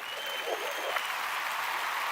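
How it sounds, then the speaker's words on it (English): A short burst of steady clapping from a small audience for a guest, dense and even throughout with no speech over it. "Round of applause."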